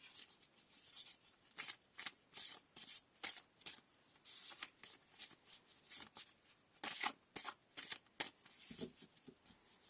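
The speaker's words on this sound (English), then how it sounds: "Now I'm going to just shuffle these." Brisk, repeated riffling of a tarot card deck, close and crisp, in quick irregular bursts with brief pauses between shuffles.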